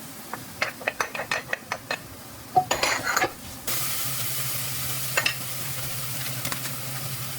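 Garlic and onion sautéing in a pan for buttered crab and shrimp, opening with a series of sharp clinks and taps, then a burst of loud frying and a steady, moderate sizzle with occasional scrapes, no speech.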